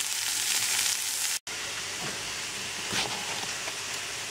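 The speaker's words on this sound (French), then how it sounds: "J'ajoute les cubes de poivron à mes oignons et à mon ail." Diced bell pepper sizzling in a pan with onion and garlic, a steady bright frying hiss broken by a brief drop near the middle, then continuing with faint stirring scrapes.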